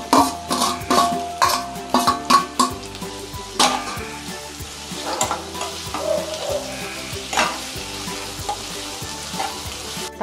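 Tomatoes with ginger garlic paste sauté in a pan, giving a continuous sizzle broken by repeated scraping stirs and a few sharp utensil clacks against the pan.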